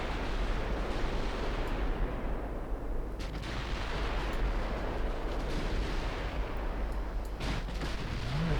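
Naval guns firing high-explosive shells in Ultimate Admiral Dreadnoughts, a steady rumbling barrage of heavy booms and distant blasts rolling on continuously without pause, with no voices.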